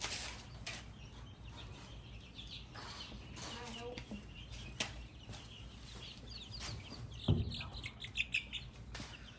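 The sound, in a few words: chicken clucking while being examined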